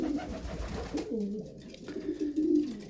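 Racing pigeons at a loft in Milicz, Poland, coo in low, rolling, repeated calls, fairly close, over a soft outdoor background.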